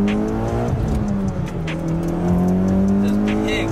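A tuned Mitsubishi EVO X running E85 with about 430 wheel horsepower accelerates, its engine note rising loud and close through gear changes, with light tire noise and no talk.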